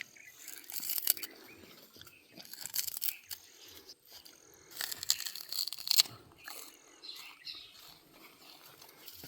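Someone bites and chews a very sweet, sugarcane-like food, making close, wet crunching and tearing sounds in uneven bursts with short pauses between bites.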